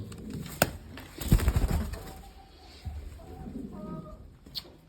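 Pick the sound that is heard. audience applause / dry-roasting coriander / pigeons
pigeons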